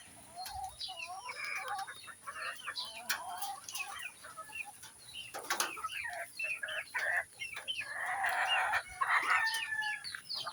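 Chickens and hens in a small coop, a busy mix of clucking, squawks and a crowing call, fairly close and continuous with no talk over them.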